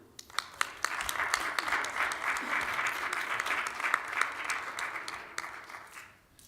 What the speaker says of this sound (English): give a warm round of applause to our moderator